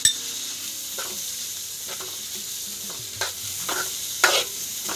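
Tomatoes sautéed in a pan for egg fried rice, a steady sizzle of frying with a few louder stirring scrapes and clatters scattered through, close by with no voices.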